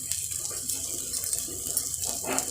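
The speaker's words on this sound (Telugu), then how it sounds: "చూడండి నీళ్ళు నింపుతుంది మా అమ్మ." Water runs from a tap into a vessel in a home kitchen, a steady close gush that brightens toward the end as the vessel fills, with no talking.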